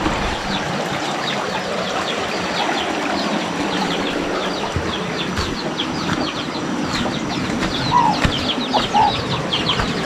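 Chickens and chicks clucking steadily on a rural farm, with many soft overlapping calls and chirps at close to moderate range, a few louder clucks standing out, and no talking.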